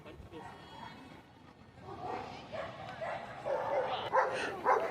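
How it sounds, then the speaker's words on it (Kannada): Rottweilers at a dog show barking and yipping among other dogs, moderately close, with the calls growing busier toward the end beneath steady voices talking nearby. "ತುಂಬ ಡೇಂಜರಸ್ ನಾಯಿ ಇದು ರ್ಯಾಟ್ ವಿಲ್ಲರ್."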